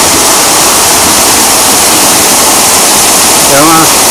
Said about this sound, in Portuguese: Essa água que cai aqui, eu acho que é aquela água de uma mina que vem lá de cima.